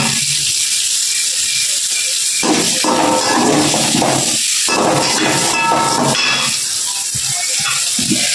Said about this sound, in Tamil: ரெண்டு பெரிய வெங்காயம் ஒரு பச்சை மிளகாய் இதை போட்டு வதக்கிக்கணும்